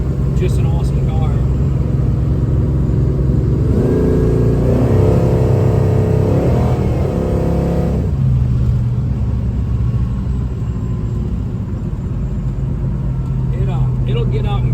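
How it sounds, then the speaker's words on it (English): A 1970 Chevrolet Chevelle Super Sport engine rumbles loudly and revs up, with a rising roar in the middle as it accelerates to about 85 mph, road noise continuing throughout. "It'll get out and go. We were running about 85 there."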